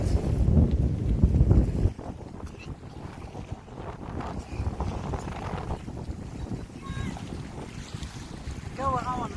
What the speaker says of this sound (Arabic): الجو هوا النهارده.